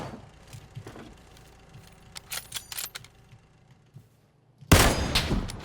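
Gunfire in PUBG (PlayerUnknown's Battlegrounds) from a player being shot at from buildings: scattered sharp shots and short bursts at middle distance, ending in one loud close volley, no talking.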